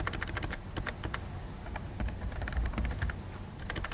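Rapid, uneven clatter of keys being typed on a computer keyboard, steady and close, with no voices.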